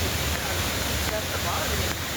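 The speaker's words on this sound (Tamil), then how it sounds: "குற்றால அருவிகளில் 3வது நாளாக இன்றும் காற்றாற்று வெள்ளம் ஆர்ப்பரித்தது." Floodwater roars over the Courtallam waterfalls as a loud, dense, unbroken rush, close and continuous, with a voice talking over the torrent.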